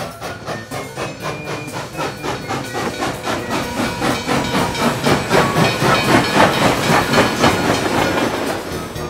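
A cartoon steam locomotive chugs steadily with rhythmic clickety-clack and hissing steam, growing slightly louder over time, with no talking.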